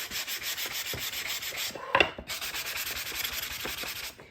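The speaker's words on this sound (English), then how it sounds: "I'm sanding it off, cleaning it up" Steady, rhythmic scratchy rubbing of sandpaper on a wooden bird shelf, close up, with short repeated strokes and a brief sharper scrape midway.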